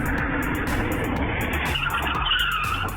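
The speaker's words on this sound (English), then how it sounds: "A speeding vehicle lost control, colliding with the retaining wall in front of his neighbor's house." A speeding Tesla loses control and slams into a residential retaining wall: a loud, sustained roar of skidding tires and grinding, scraping impact that shifts in tone partway through, caught on a home security camera.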